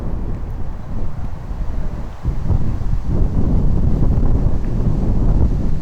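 Steady wind rushes and buffets the microphone on an outdoor disc golf course during a tournament round in Japan, a continuous low roar that swells louder in the second half with no voices.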